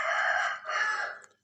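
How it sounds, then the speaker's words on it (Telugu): A village rooster crows in the morning, one clear close call broken by a short pause before the call trails off, with no talk over it. "విన్నారా మా ఊళ్ళో కోడి కూతని?"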